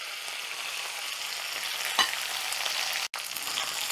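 Mustard seeds and curry leaves frying in hot oil for red chilli country chicken give a steady, close crackling sizzle with a single brief spatter pop and a momentary dropout near the end.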